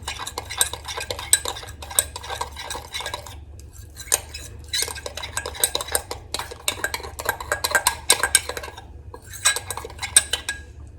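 A utensil scrapes and clinks through beef stroganoff as milk is stirred into the pan, with bursts of metallic stirring and brief pauses between strokes, close and fairly loud.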